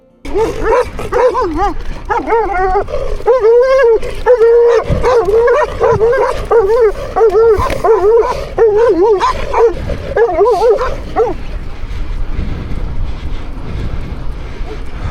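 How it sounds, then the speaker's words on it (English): Several dogs bark, yip and howl at a touring cyclist on a long bike ride from England to Bosnia, a loud, continuous barrage of overlapping barks close by that fades after about eleven seconds into road and wind noise. "And the dogs, don't forget the dogs."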